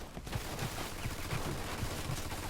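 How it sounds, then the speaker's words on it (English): Machine gun fire in the game Mafia 2 Definitive Edition, a steady rapid stream of muffled shots over a dense, noisy background, fairly faint and continuous throughout. "Looks like we found the machine gun."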